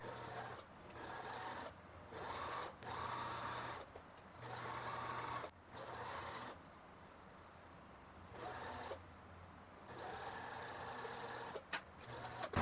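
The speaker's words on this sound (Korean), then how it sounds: "여기서 시접을 눌러 박아 주도록 하겠습니다." A sewing machine stitches down the seam allowance on rayon men's shorts in several short bursts of rapid whirring, separated by brief quiet pauses, close and clear with no talk.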